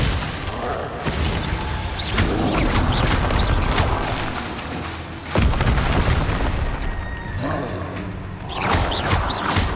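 Several booming Confringo blasting-spell explosions in Hogwarts Legacy, loud concussive hits with crackling debris, the strongest around 1, 5.5 and 9 seconds within continuous battle clatter.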